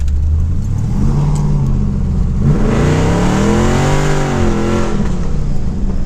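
LS-engined third-gen car on a test drive with shifting problems, its V8 droning loud and close inside the cabin, revs rising and swooping as it accelerates hard and holds high revs.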